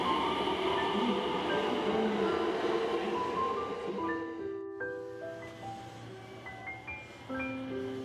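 A Hanwa Line 5100-series train bound for Tennoji hums and rumbles as it pulls away at night, its electric motors whining in rising stepped tones, fairly quiet and steady.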